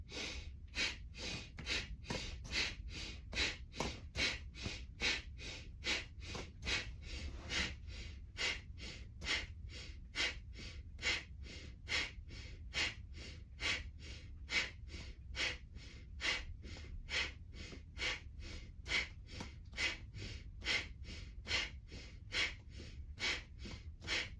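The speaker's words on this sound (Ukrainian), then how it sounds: "Потужний потік повітря входить і виходить." Rhythmic, powerful deep breathing from a single person doing a breathing exercise, dozens of forceful inhale-exhale cycles at a steady rapid pace, close and loud with no talking.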